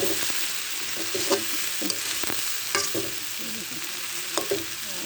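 Fish roe frying in a pan with bitter gourd as it is broken into pieces, giving a steady close sizzle with scattered scraping clicks of a utensil stirring through the mix.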